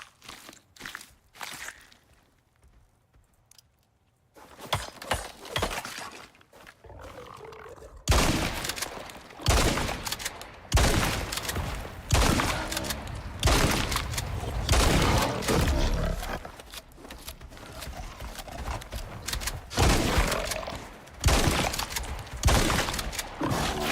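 Assault rifle fire in Icarus, while hunting worms and slugs on Olympus, starts after a quiet stretch and then bursts into repeated loud sharp volleys with short gaps, mixed with footsteps and creature noise.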